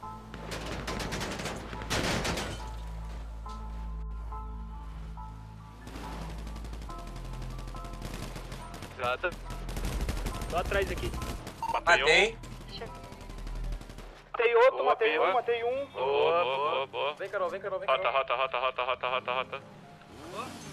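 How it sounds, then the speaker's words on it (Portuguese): Bursts of automatic gunfire in a shooter video game, rapid rattling volleys and single shots coming in clusters, some close and loud, mixed with excited players talking over voice chat. "Tem tiro ainda, tem mais um."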